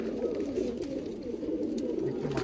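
Pigeon cooing in a loft among kept birds, a steady low throaty murmur continuing throughout at moderate level with no speech.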